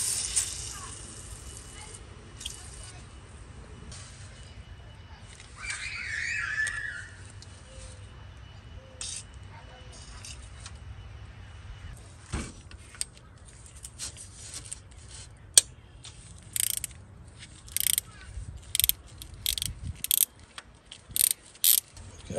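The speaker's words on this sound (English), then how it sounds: "let's loosen this 13 millimeter bolt up." Ratchet working a 13 mm bolt on a Ford 2.3 engine during a timing belt job, with bursts of quick clicking and short clacks near the end over a low background hum.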